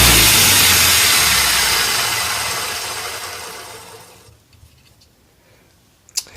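A mock combat robot weapon motor runs at half throttle on a cluttered workbench, a loud dense whirring roar that fades over four seconds and stops, followed by near silence and one sharp knock.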